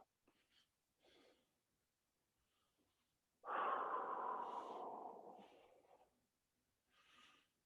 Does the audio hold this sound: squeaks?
no